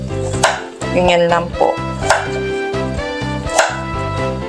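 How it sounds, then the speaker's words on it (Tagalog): Carrots being chopped with a knife for a Japanese-style pot-au-feu, giving a steady run of crisp, close knife strikes on a cutting board, with a few words of speech over them. "Sunod po yung ating carrots. Ito po, random cut nyo lang po yan."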